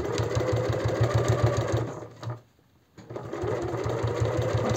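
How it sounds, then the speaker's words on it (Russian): A sewing machine runs steadily on its widest stitch along the edge of a fabric potholder, a fast even whirr that stops briefly midway, then resumes at the same close, loud pace. "Теперь я поставила нужные мне нитки и отстрачиваю"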